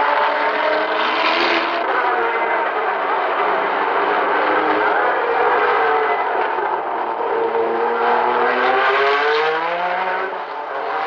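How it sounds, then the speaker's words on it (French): Racing cars roar steadily past on the circuit at the 1960 24 Hours of Le Mans, engines droning loud and continuous, one pass blending into the next with rising and falling pitch. "tandis que les voitures continuent leur ronde quasi infernale"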